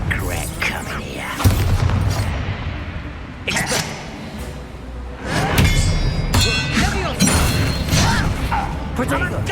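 Bombarda explosion spell in Hogwarts Legacy, heavy booming blasts and clanging impacts amid battle effects, loud and near, with a voice speaking during the fight.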